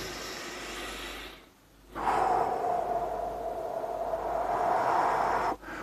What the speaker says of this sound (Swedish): Det är riktigt djupa andetag.